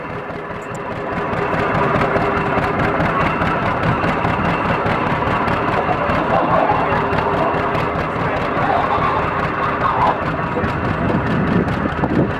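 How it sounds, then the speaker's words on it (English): A vintage tractor engine labors hard while pulling a weighted sled at an outdoor tractor pull competition, a steady loud roar with constant rumbling and wind buffeting across the microphone. "A special sled was used that gets harder to pull with every foot until the tractor can't pull any further."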